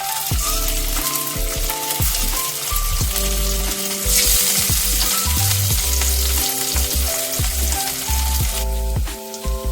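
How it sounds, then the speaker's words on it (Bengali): Boiled potato pieces fry in hot oil in a pan, a loud, continuous sizzle close up, with clinks and scrapes of stirring and a brief swell of crackling midway. "এখন আমি সবার প্রথমে তেলের মধ্যে এই আলুর পিসগুলো দিয়ে দেবো"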